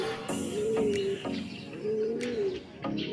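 Two soft, rounded racing pigeon coos rise and fall close by, each lasting about a second, with faint outdoor hiss and clicks between them.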